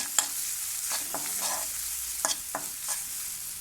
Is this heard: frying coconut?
yes